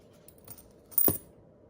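50-cent coins are set down on a paper beam bridge: a faint light tap, then a brighter metallic clink of coins touching, close and quiet, with no talk.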